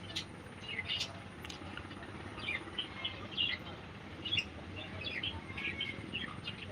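Pet pigeons kept at home give off small, scattered chirps and tweets over a steady low background hum, moderately close and fairly quiet, with no clear talk over them.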